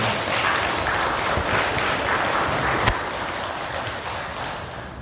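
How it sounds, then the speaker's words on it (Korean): A temple audience at a regular Buddhist dharma service applauds, a dense, steady wash of clapping that holds at an even level throughout without any voices. "목사 선생님께 큰 박수 보내주시기 바랍니다"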